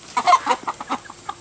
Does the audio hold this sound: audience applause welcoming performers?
no